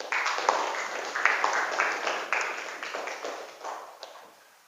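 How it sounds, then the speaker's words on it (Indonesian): A classroom of students claps for their classmate Dava, a dense, steady patter of many hands that starts loud, swells briefly and gradually fades out over several seconds. "tepuk tangan dulu untuk Dava"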